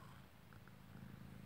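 A soft female cat purrs while being petted indoors, a low, close, continuous rumble that stays quiet and steady throughout with no speech.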